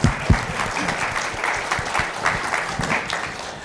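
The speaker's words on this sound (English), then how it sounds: "if we could have a round of applause for Nolan" Audience applause for a mayoral candidate named Nolan at a candidates' meeting, a steady dense clapping that holds at an even level for the whole stretch after a sharp opening burst.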